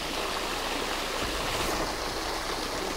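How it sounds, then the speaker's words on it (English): Cold spring water pours from cracks in the rock wall of Mount Mismi in the Peruvian Andes, giving a dense, continuous nearby splashing rush with no voices. "the water comes right out of the cracks of the wall of this mountain"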